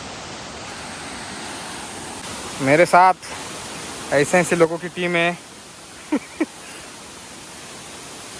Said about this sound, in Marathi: इथे धबधबा आहे.